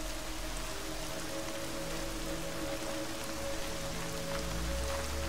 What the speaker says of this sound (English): Foggy, and there's rain